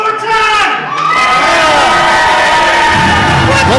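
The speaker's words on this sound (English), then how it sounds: "Why are they cheering that?" A wrestling show crowd cheers and shouts loudly and steadily for nearly four seconds, with excited voices and whoops filling the arena and a commentator talking over the noise.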